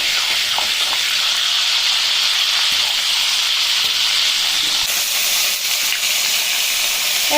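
Cumin seeds frying in hot oil in a pan while cooking katla fish give a steady, loud, close sizzle and hiss that runs unbroken throughout, with no talking.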